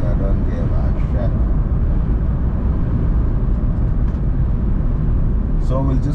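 Heavy trucks with trailers roll past on Mombasa Road in Kenya, a dense, loud and constant low rumble of traffic with no break in the flow.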